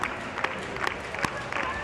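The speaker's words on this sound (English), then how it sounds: "Gets the whole crowd clapping." Crowd claps and cheers in a steady, rhythmic wash of applause with a few sharper claps standing out, while voices talk over it.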